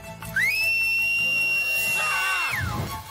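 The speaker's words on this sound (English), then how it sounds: "I need you to whistle as loud as you can." A single loud, sustained whistle in a Peter Rabbit cartoon, starting with a quick upward slide, holding a steady high pitch, then sliding down and fading, with faint background noise.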